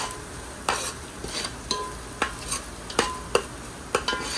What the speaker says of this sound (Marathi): वाटण थोडा शिजू तेलावरती.